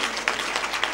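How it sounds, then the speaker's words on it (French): Audience applause welcoming a speaker to the podium at a formal event, a dense, steady wash of many hands clapping throughout the whole second with no voices over it. "recevez ici sur ce pupitre le président Kofi Kouadio avec"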